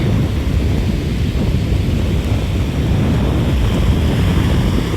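A constant heavy roar of monsoon sea waves breaking on a Konkan beach, dense and loud, with wind rumbling across the microphone and no voices.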